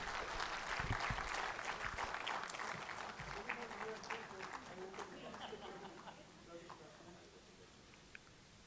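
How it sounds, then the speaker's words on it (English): An audience at an institute's annual day celebration applauds an honoree, a strong burst of many clapping hands that gradually thins and fades over several seconds, with a voice heard speaking over the tail. "Let's have a big round of applause for him."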